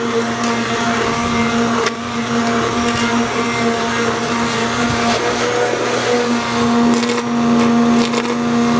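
Cranberries being chopped in a blender, a steady loud motor whir with gritty churning that holds for the whole stretch, nobody talking.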